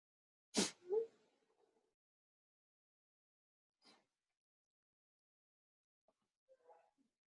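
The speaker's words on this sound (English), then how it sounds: "That was my husband sneezing." A single sharp sneeze from a man bursts out in a quiet room, followed by a brief sniff and faint rustles.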